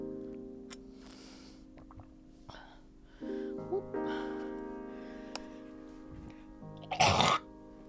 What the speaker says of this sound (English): cough right into the mic as I get back